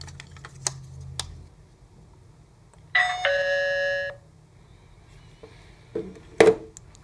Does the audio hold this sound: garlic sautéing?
no